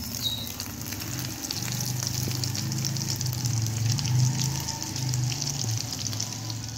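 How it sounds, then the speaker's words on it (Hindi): Egg and potato kebabs with a coating fry in hot oil over a low flame, producing a continuous soft crackling sizzle with faint bubbling that stays steady for several seconds. "मैं इसे फ्राई करूँगी।"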